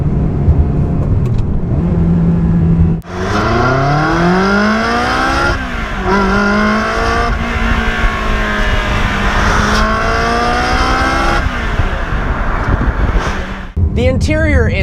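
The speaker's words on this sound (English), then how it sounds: "there's nothing like the sound of a Ferrari V8." Ferrari 360 Spider with a V8 and gated manual gearbox accelerates through the gears, engine note climbing, dropping at each shift and rising again, loud from inside the car while a voice talks over it.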